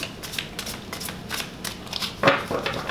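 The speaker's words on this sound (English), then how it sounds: "Gonna do a quick shuffle here" A deck of tarot cards riffled and shuffled close by, a quick series of papery flutters and soft slaps that ends in a sharper snap, with no talking.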